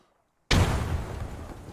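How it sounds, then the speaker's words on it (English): A frag grenade in Arma 3 bursts suddenly after a moment of silence, a loud close blast with a broad rumbling decay that trails off over the following second. "Oh, that was a good frag."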